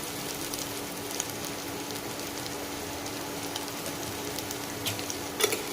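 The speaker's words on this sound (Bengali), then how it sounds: "বাটার আর তেলের সঙ্গে আলুটাকে ভালো করে ভেজে নেব" Potatoes fry in butter and oil for a spiced masala butter potato dish, giving a steady, even sizzle with a faint crackle throughout and a small clatter near the end. No one speaks.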